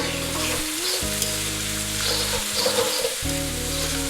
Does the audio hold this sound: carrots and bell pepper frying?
yes